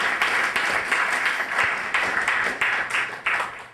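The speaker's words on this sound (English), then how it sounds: "Let's give her a round of applause." An audience gives a round of applause, a moderately quiet patter of clapping that swells and fades in short uneven waves, with a few louder claps standing out.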